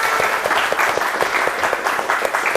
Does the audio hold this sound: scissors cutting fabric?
no